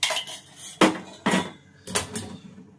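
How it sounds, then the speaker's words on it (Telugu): Knife chopping cauliflower for curry in a home kitchen, with four or five sharp knocks on a cutting board separated by short pauses, close and fairly loud, alongside faint clatter of utensils and no talking. "కాలీఫ్లవర్ అయితే కర్రీ చేద్దామని కట్ చేస్తున్నా"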